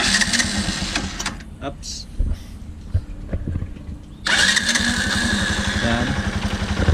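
A motorcycle engine with a carburetor fault sputters and cranks, fades briefly, then catches and settles into a loud steady idle close by as the air screw is set. Someone says a quick word over it.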